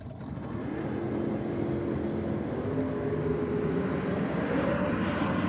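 A Ford Escort panel van on a drag strip roars through a run, a continuous loud engine drone that holds steady and swells slightly, with no voices over it.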